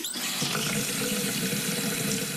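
A faucet in a California apartment runs at full flow, a loud, close, continuous splashing stream into a sink with no voices over it.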